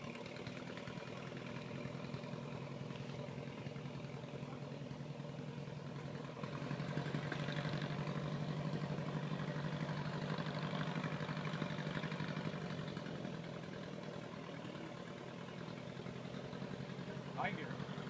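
A 1926 Ford Model TT one-ton tow truck engine idling with a low, steady chugging throb that swells slightly midway, while voices talk nearby over it.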